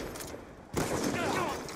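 Gunfire in Black Ops 2, a sudden loud burst of shots after a quieter stretch, continuing as dense rattling fire, with a voice faintly under it.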